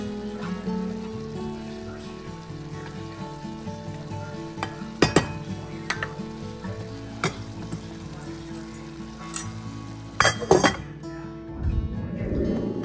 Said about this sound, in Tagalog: Lutuin lang natin ang green beans.